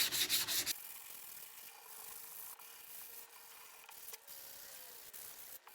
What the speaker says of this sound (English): you're going to take your sandpaper and make sure that everything is nice and soft